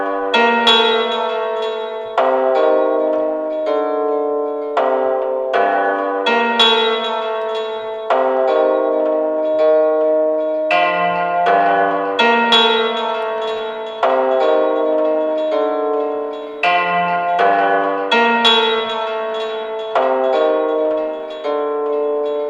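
A sampled zither played from a MIDI keyboard sounds a sequence of plucked, ringing notes and chords with bright decaying tails, steady and unaccompanied for over twenty seconds.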